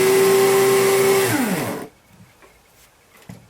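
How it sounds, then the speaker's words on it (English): Old 1970s PCB drill motor spinning with a loud, whiny, rough-sounding hum and a steady tone that winds down in pitch and stops, followed by faint handling clicks and taps. "It seems to spin true enough. There's not a lot of play in it, it's just the motor sounds horrible."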